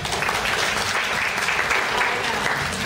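Warm audience applause at a conference party demo, a steady wash of many hands clapping throughout, fairly even in loudness with no talk on top.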